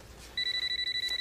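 A telephone rings in a home, a fast trilling electronic ring repeating in short even pulses, clear and fairly close, with no talk over it.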